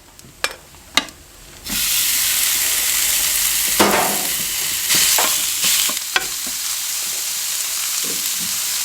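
A ribeye steak hits the hot plate of a Ninja Woodfire Grill after a few clanks, then sizzles loudly and continuously up close, with occasional scrapes and taps.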